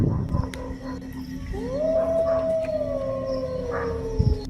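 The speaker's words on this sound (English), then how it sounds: "It was just a K9 howl." A single drawn-out canine howl rises and then holds a long, steady tone before fading, heard at a moderate distance over a low background hum.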